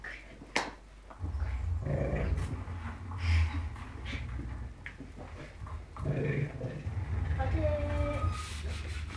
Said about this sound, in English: God, he's growling.